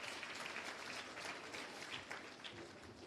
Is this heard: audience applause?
yes